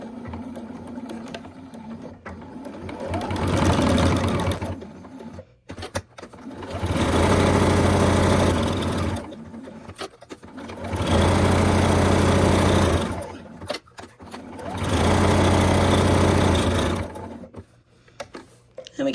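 Sewing machine stitching a fabric coaster at a 2.0 stitch length, three sustained runs of rapid mechanical whirring separated by short pauses, close and steady, with faint background noise between bursts.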